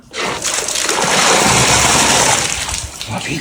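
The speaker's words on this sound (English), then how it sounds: "we found a shower. Look how much pressure there is here." Strong, high-pressure water gushes from a shower on an abandoned cruise liner, a loud steady hiss and splatter that rises quickly and holds for several seconds with no talk over it.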